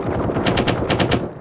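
Rapid automatic gunfire from the tactical shooter video game Firewall Zero Hour, loud and close in two fast bursts over a busy background of game noise.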